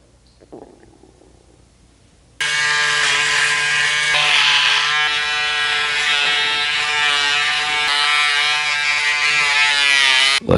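A Braun Series 5 5035s rechargeable wet/dry electric shaver starts up after a quiet moment and runs against stubble, a loud, close, steady buzzing hum that holds for several seconds.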